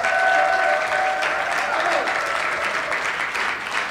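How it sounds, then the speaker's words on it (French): A church congregation applauds the fathers on Father's Day, producing loud, dense, sustained clapping with a faint tonal hum in the first half and some scattered voices mixed in. "Est-ce qu'on peut leur donner une bonne main d'applaudissement?"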